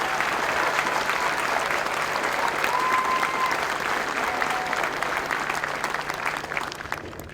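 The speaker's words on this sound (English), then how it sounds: "Can we give these extraordinary leaders a round of applause?" Sustained audience applause at an Air Force basic military training graduation ceremony, a dense, loud wash of clapping from a large crowd that holds steady and then begins to taper toward the end.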